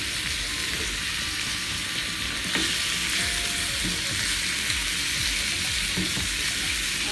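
Pork ribs fry in olive oil in a sunny home kitchen, giving a steady, close, dense sizzle with faint crackles and occasional soft pops, no voices.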